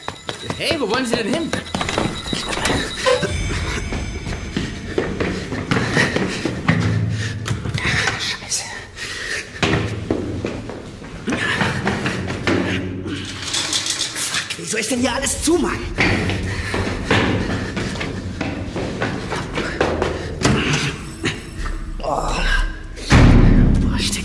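Cellar door opening with heavy thumps and bangs in a German crime radio drama, mixed under dense talk and gasps, with a loud knock near the end.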